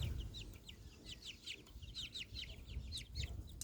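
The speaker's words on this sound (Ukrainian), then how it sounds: "Ось такі в мене" Month-old chicks cheep and cluck in quick, high clusters, several birds close by chattering in bursts with brief pauses between.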